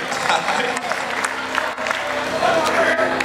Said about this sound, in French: un petit applaudissement pour l'ambassadeur de la paix